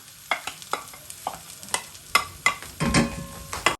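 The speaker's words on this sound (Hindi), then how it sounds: "बस हम मेल्ट करते हैं बटर को। अब इसमें हम स्मॉल साइज़ का अनियन, चॉप अनियन इसमें डालेंगे हम।" Chopped onion stirred into melted butter in a pan, a soft sizzle under a series of sharp scraping strokes from the spoon about every half second, close and moderately loud.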